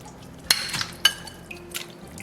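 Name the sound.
chicken bones added to pot of water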